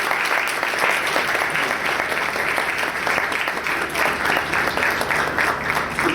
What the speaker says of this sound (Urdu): تالیاں بجائیں گے اس کے لیے